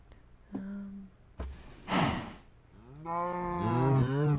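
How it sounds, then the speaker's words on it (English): Video game cows moo several times nearby, long low drawn-out calls with breathy snorts between them, no talking. "Oh, here's cows."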